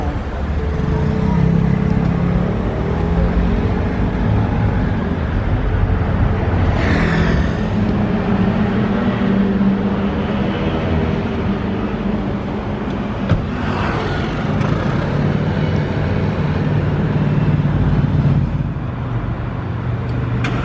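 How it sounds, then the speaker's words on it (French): The V12 engine of a Rolls-Royce Cullinan runs loud and steady on a Monaco street, a deep continuous hum blended with surrounding traffic and faint voices. "Voilà, on a eu le droit au start-up, ça y est, du V12."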